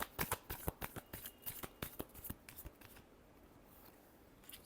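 Tarot cards being shuffled by hand in a quick run of crisp riffling flicks and slaps, close and clear, for about three seconds before the sound drops to near silence.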